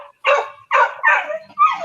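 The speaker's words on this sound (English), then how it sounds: "Sorry about the dog." A dog barks four times in quick succession, loud and close, with short gaps between the sharp yelping barks.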